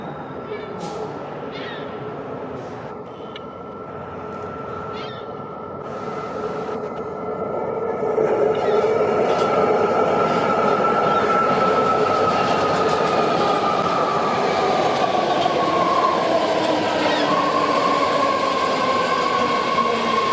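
BART Orange Line train heading southbound to Berryessa from Richmond, rumbling wheels on rail that grow louder midway into a steady roar with brief squeals, while a person speaks early on.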